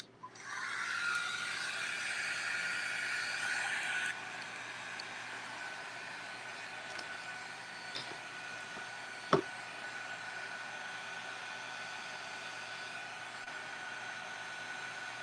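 A hair dryer blows steadily for about four seconds, drying jewelry box craft pieces, then cuts off, leaving quiet room tone with a single sharp knock later on.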